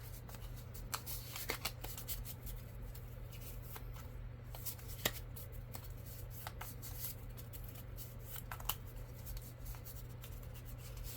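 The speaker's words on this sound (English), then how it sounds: "we're going to shuffle and we're going to put them in the rooms" Playing cards for a Clue board game get shuffled close by, with soft rapid riffles and scattered crisp snaps over a steady low hum, faint and without talk.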